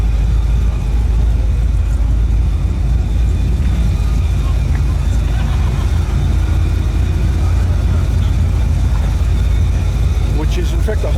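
A Holden GTS Monaro engine at the Summernats car festival in Sydney, a loud continuous rumble that holds steady throughout, with crowd noise mixed in.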